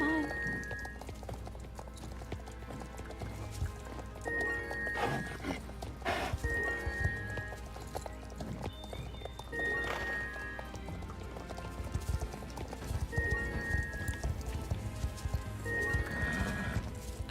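Horse hooves clip-clop in steady rhythm in the Star Stable video game, mixed with occasional neighs, over music and game sound at moderate level, with a person talking over parts of it.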